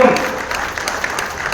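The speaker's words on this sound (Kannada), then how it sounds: "ಜೋರಾಗಿ ಚಪ್ಪಾಳೆ" An audience at a stage event honoring achievers breaks into loud applause, a dense burst of clapping that lasts the whole short moment and is heard close by.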